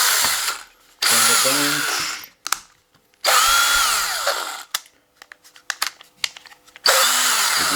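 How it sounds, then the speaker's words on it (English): A repaired DeWalt cordless hand drill spins up in several bursts of motor whine, each winding up and down, separated by silences and sharp clicks of handling, loud and close; a voice speaks briefly. "the last and fourth drill actually works."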